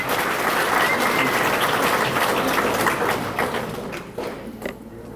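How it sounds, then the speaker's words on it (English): Banquet audience applauding a scholar, steady full-room clapping that holds for several seconds and then begins to taper off. "Give Adriana a round of applause, please."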